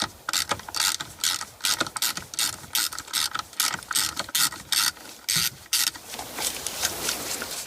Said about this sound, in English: we're going to try to remove the bolt here from the steering column